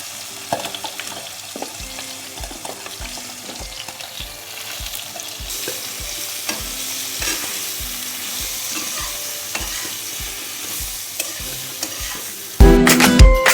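Eggplant frying with turmeric in an oiled pan: a loud steady sizzle under rhythmic spatula stirs and scrapes repeating about every half second, close up, ending in a sharp burst of louder clattering.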